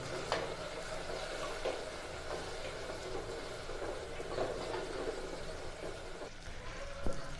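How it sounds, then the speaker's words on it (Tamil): Tomatoes sautéing in a pan for fish curry give a moderate, close sizzle with soft stirring scrapes and occasional spoon knocks throughout. "தக்காளியை வந்து வதக்குறோம்"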